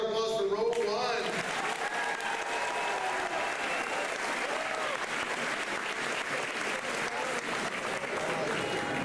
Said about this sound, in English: Let's get a big round of applause for row one.